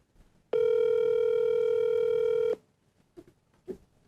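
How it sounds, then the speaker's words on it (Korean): During a phone call, a steady telephone ringback tone sounds once for about two seconds, loud and clean, then stops, followed by faint clicks and brief voice fragments. "지금 수화음이 가고 있어"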